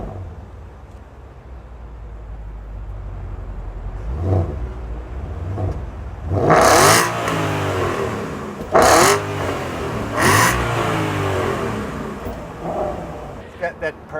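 A 2013 Porsche Panamera GTS with sport exhaust starts up with a low idle, then gives several sharp, loud throttle blips that rise and fall between steadier rumble, heard up close.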